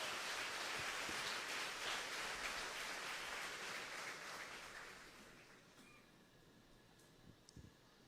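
Church congregation applauding after a sermon, a dense, steady wash of clapping that holds for about five seconds and then thins and fades toward the end, with no talking.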